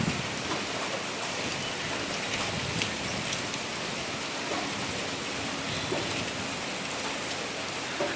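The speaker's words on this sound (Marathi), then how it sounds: "खूप जास्त प्रमाणात पाऊस होतोय बघा" Heavy monsoon rain pours down in a dense, even roar of drops hitting surfaces that stays steady and continuous from start to finish, with no voices.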